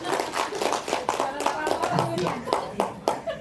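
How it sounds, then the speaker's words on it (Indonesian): Hand clapping from an audience at an Indonesian school teacher's talk, sharp irregular claps of a modest group rising and fading, with voices talking over it. "Tepuk tangan dulu ya."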